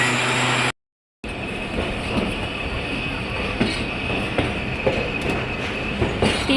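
A passenger train pulls out of Hyderabad Junction railway station, a steady loud rumble of wheels and carriages with faint clicking and squealing, heard from on board after a brief dropout at the start.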